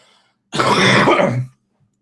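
A single harsh cough or throat clearing, loud and close, lasting about a second and preceded and followed by near silence.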